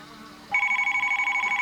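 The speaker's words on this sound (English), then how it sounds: "I think I'll answer the phone" A telephone starts ringing abruptly after a quiet moment, a loud, close electronic trill pulsing rapidly and evenly until the end.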